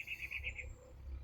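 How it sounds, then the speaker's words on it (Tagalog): Faint, distant birds chirp in a quick run of repeated high notes against a quiet low rumble. "yung huni ng mga ibon."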